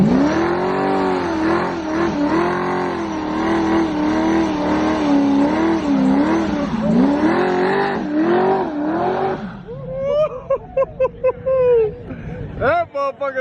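Car revving hard at a car show burnout, a loud sustained engine roar rising and falling with throttle, then sharper bursts and revs near the end, with excited voices and crowd chatter underneath.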